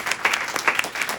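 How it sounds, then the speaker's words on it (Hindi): Audience at a Hindi kavi sammelan poetry recital clapping together, a brief dense burst of applause, close and steady with no voices over it. "एक बार जरा पुनः मुझे आगे से पीछे तक की श्रोता तालियों से मदद दे दो"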